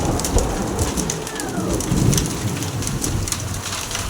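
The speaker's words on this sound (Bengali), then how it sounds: "বৃষ্টি আর ঝড় একসাথে হচ্ছে, তার মাঝে শিলাবৃষ্টিও হচ্ছে" Intense hailstorm with heavy rain, wind and thunder, hail and rain hammering a rooftop in a dense, loud, continuous roar with rumbling underneath, no voices.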